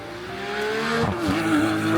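A race car on a hill climb track roars past with a rising then falling engine pitch, loud and close, with a hint of tire noise as it takes a bend.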